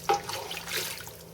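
Water pours into an empty pot for homemade play dough that already holds flour and salt, making a brief close splash and a steady pour that fades out.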